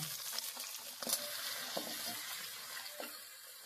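Potato and pumpkin pieces frying with onion in a pan, a quiet steady sizzle broken by a few scraping stirs and soft clinks, heard close with no voices.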